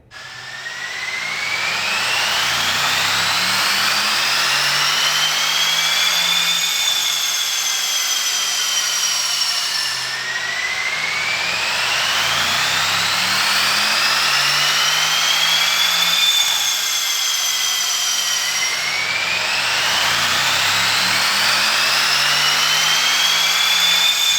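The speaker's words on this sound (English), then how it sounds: "I'll tell you what, Affy, that AMG just sounded epic running up on the dyno, didn't it?" A Mercedes-AMG car engine revving hard on a dyno, loud sustained roar with repeated rising sweeps as it climbs through the gears, a brief dip between runs, no talk.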